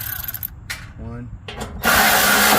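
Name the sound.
removing 8mm screws from a trailer light with a power tool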